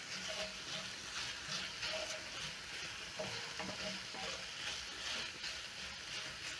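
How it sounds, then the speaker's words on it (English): Onions, garlic and ginger fry in a pan with a steady crackling sizzle, broken by repeated scraping and stirring knocks throughout; fairly quiet and close, with no voices. "Cook the onions until soft and the garlic and ginger is fragrant."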